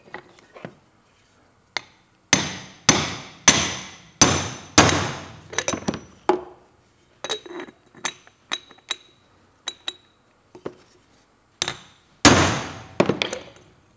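Metallic taps and sharp clinks as a front wheel bearing is driven onto a Massey Ferguson 20 tractor hub, a series of close, ringing hammer strikes in irregular clusters with short pauses between.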